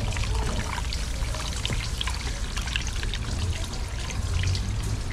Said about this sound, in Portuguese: Se a gente jogar mais água ali dentro, vocês vão ver que vai sair mais água suja ainda.